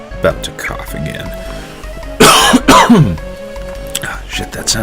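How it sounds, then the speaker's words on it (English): A loud, harsh cough bursts out close to the microphone, with throat clearing and talking around it. "About to cough again."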